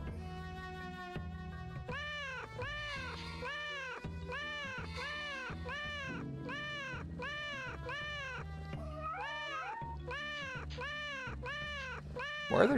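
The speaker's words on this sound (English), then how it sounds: "Why are there two different meow sounds?" Cat meows from the video game Neko Zamurai repeat in a quick, steady series of bright synthesized mewing calls, many in a row with short gaps, loud and clear with no talk.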